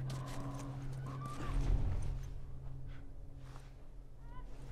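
A horse neighs and snorts nearby in The Last of Us Remastered video game, with hoof movements and ambient game sounds around it.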